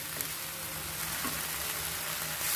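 Pabda fish in mustard sauce with salt sautéing in a pan, a steady close sizzle and frying hiss running evenly throughout without any talk.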